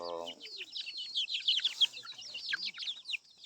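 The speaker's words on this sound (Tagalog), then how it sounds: "ito ang maliliit nating native chicken" Small native chickens cluck and chirp in a busy flock, many overlapping high calls running continuously and fairly close, with a brief low voice at the start.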